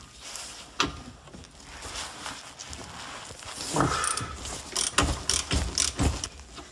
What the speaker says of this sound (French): Ça ira très bien avec mon cliquet.